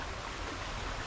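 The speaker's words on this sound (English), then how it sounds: "Here's a quieter stretch of river" River water flows along a quieter stretch, a steady broadband rushing wash with no distinct splashes, even in level and fairly close, with no voices.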